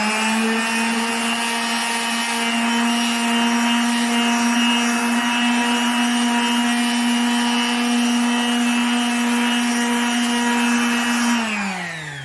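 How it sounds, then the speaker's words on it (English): An electric sander runs steadily over flat wooden bedroom furniture surfaces, giving a continuous close whine with a strong hum for about eleven seconds before spinning down at the end. "I'm just using my sander now to do like the flat sections."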